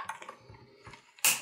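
A die-cutting machine gives faint clicking and whirring, then a sudden louder rasp near the end as its die slices through paper for a Christmas card.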